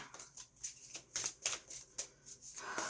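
A deck of oracle cards is shuffled by hand in close, rhythmic riffling bursts of papery flutter, about six strokes in quick succession with no voices.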